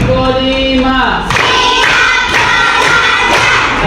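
A group of students claps hands in a counted fifth pattern. A voice speaks first, then bursts of loud clapping follow in rapid succession.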